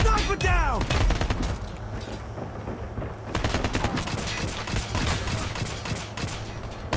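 Pistol fire and dense gunfire crackle and boom through a Call of Duty Mobile match, loud and near, with rapid overlapping shots and explosions throughout.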